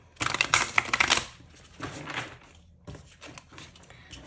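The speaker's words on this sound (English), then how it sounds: "So I'm gonna shuffle." A Lightseer's Tarot card deck is shuffled up close, a fast riffling flutter followed by softer sliding and tapping of cards.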